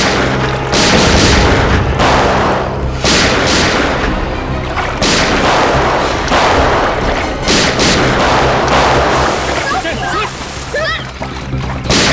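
Gunfire in a tense police-drama shootout aimed at an investigation team, heard as heavy booming shots and dense, loud bangs running throughout, with voices in the mix.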